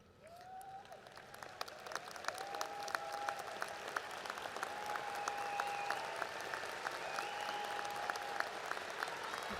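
Applause from a crowd at a university spring commencement ceremony, steady and distant, building slightly in density, with faint whistles or calls rising above the clapping.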